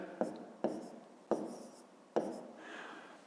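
Pen or marker strokes writing out an inequality during a fifth-grade maths lesson, four sharp taps of the tip followed by short scratching strokes, close and fairly quiet, with no talk.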